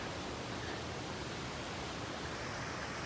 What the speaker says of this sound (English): Take a look. Waterfall from the other angle.